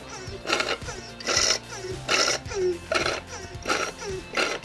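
Power steering fluid is hand-pumped out of a Maserati Ghibli, giving about six regular rhythmic pumping strokes, each a gurgling, sucking whoosh, close and moderately loud.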